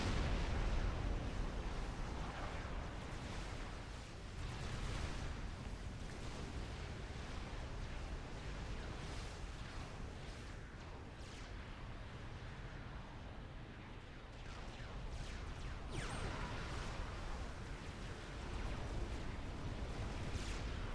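Nuclear missile launches and detonations in a strategy video game, dense, loud booming rumbles and blasts rolling on continuously with a few swells in intensity.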